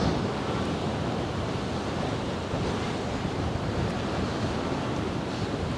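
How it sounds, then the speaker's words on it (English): Strong wind batters a microphone by the Westerschelde waterfront, a loud, continuous roaring buffet of noise with no letup. "Oh, the wind is battering me though."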